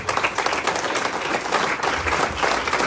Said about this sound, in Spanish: Dele fuertes palmas a Dios.